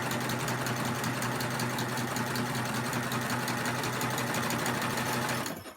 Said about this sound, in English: Whether it's with your cover stitch or your sewing machine.